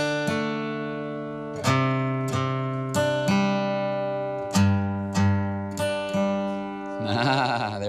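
A guitar playing a riff twice, a sequence of plucked, sustained notes with clear regular attacks, close and loud, ending in a quick strummed flourish, with no talking.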